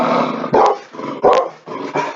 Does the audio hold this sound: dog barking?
yes